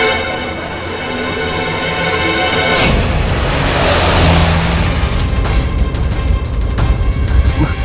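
A car engine starts up and revs with rising power and roar, loud and near, heading off to a hospital.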